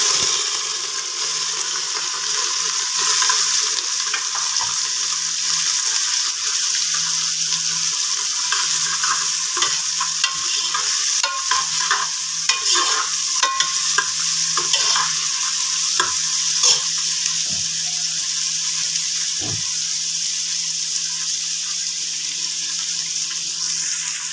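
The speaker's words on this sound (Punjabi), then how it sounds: "ਹੁਣ ਆਪਾਂ ਪਿਆਜ਼ ਤੇ ਅਦਰਕ ਹੀ ਪਾਵਾਂਗੇ" Cumin, onion and ginger sizzle in hot oil in a pan for Punjabi moong dal, a steady hiss under intermittent scraping and clinking from stirring, close by and without speech.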